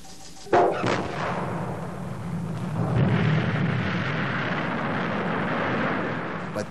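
A missile launch, set among nuclear weapons, bursts into a loud, sudden blast, then becomes a sustained, rumbling roar that holds steady for several seconds.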